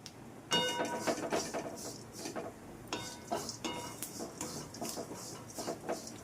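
Sesame seeds and grated coconut dry roasting together in a pan, with repeated scraping and stirring clatter of a spoon against metal, close and steady throughout with no talking.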